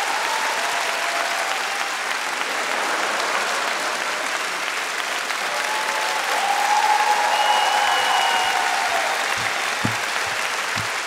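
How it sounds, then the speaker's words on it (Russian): Loud, stormy applause from a large audience at a comedy league show, a continuous dense wash of clapping with a faint tone and a few thumps near the end. "Мы вас провожаем под бурные аплодисменты в зал."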